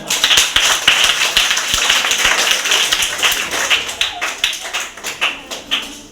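An audience at a speech about the writer Munshi Premchand claps steadily, with sharp individual hand claps standing out in a lively, uneven rhythm close by, and a faint voice occasionally underneath.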